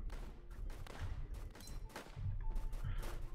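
Machine gun fire in a World War tower defense video game, dense rattling bursts mixed with distant booms and thuds in a busy battle, steady and moderately loud throughout.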